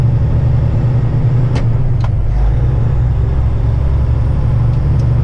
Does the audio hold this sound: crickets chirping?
no